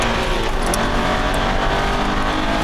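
An Aston Martin V8 Vantage accelerates hard onto the front straight of a racetrack, its engine a loud, continuous roar heard close up for the whole stretch.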